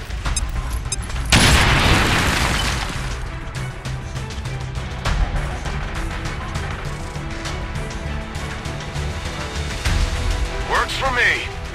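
A grenade blast in the strategy game XCOM 2 booms loudly near the start, its broad roar decaying over a couple of seconds before settling into rumbling game ambience, with voices talking over it.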